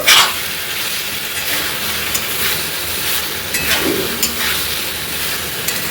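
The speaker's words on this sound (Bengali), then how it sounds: "এখানে আমি আলুটাও কষতে দিয়ে দিয়েছি মশলার সাথে" Potatoes frying with spices in a pan for a home-cooked curry, a steady close sizzle and hiss running throughout with a few stirring scrapes and no talk.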